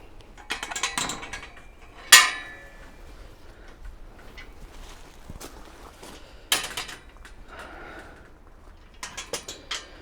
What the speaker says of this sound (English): let's just lock the gate